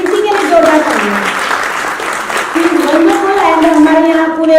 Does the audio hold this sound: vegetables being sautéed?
no